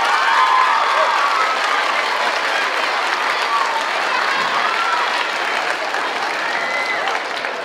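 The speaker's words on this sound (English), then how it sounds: "So you guys give them a round of applause" A school audience at a district chorus concert applauds, dense and loud clapping that holds steady throughout with a hint of cheering mixed in.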